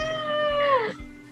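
A single drawn-out meow from a male house cat falls in pitch toward the end. It is close and clear in a quiet room with no talking.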